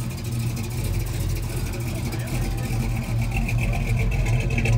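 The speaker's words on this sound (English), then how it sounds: "right here, we got a classic Plymouth pulling in" A classic Plymouth car's engine rumbles steadily as it pulls in at a Cars & Coffee meet in Central Florida, a continuous low throb close by with a busy crowd murmuring in the background.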